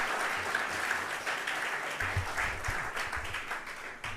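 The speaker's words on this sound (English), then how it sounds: "Let's give some applause for those who did their..." Steady applause from a conference audience at a tenth-anniversary research conference, dense and continuous throughout without a break, at an even level that neither builds nor fades.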